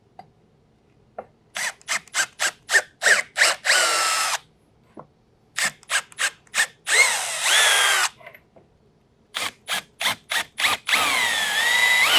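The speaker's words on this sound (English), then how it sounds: "and then I'll drill a hole" A power drill whirs in short, repeated bursts, stopping and starting rhythmically, with a few longer sustained runs as it bores a hole for a Corvette foot tray attaching to the pedal box.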